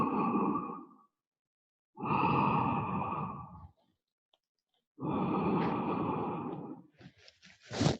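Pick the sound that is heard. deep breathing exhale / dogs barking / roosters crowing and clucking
deep breathing exhale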